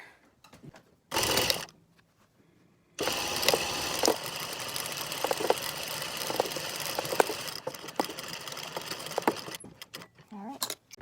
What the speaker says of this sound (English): All right, so we're sewing our shoulder seams now.